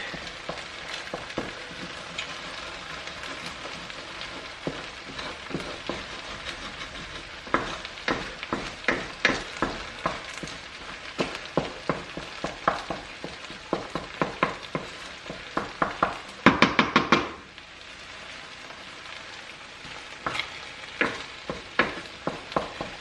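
Egg sizzles steadily in a hot pan while being folded and broken up for shrimp fried rice, with soft crackling frying and repeated spatula scrapes and taps, one louder clatter midway.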